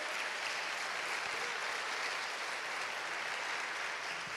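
A church congregation applauds in a steady, dense wash of clapping that holds at an even level throughout, with no pauses and no voices standing out.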